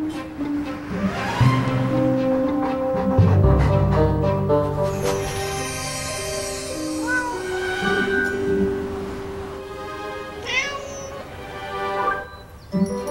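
Cat meowing in a Fresh Step cat litter commercial, several wavering meows and yowls over dense background music and sound effects.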